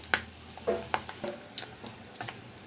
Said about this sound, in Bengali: এখন ওই পিঠটাকে একটু হালকা করে ভেজে নেব।